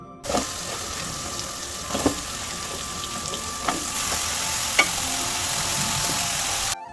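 Chopped bottle gourd tipped into a pan of frying prawns and spices, giving a continuous close sizzle with a few soft knocks and stirring scrapes.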